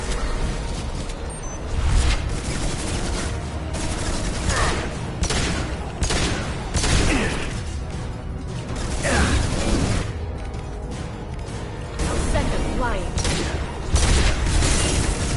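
Heavy pistol fire and combat in Mass Effect 2 video game, a dense, loud barrage of repeated shots, booms and mechanical crunches over a constant noisy bed, with a voice talking intermittently through the fight.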